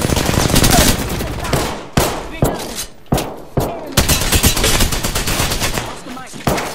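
Rapid gunfire from Apex Legends, with a dense stretch of automatic fire followed by a string of sharp, loud shots in quick succession, close and dominant in the mix.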